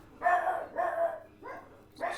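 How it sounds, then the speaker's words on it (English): Dogs bark indoors in four loud, separate bursts over about two seconds, the first two long and rough, the last two shorter. "Sorry, my dogs are going crazy."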